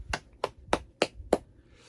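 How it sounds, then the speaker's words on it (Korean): Hand clapping during a middle-school church worship service, five sharp, evenly spaced claps, fairly quiet and alone. "우리의 예배를 받아주신 하나님께 영광과 감사의 박수를 올려드리기 원합니다"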